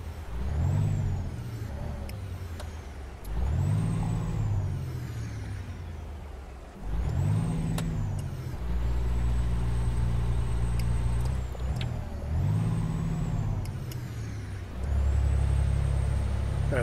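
A heavy truck with a 13-speed transmission in American Truck Simulator, with its engine repeatedly revving up and dropping between gear changes. Loud, steady drone with rising and falling pitch and brief hisses in between.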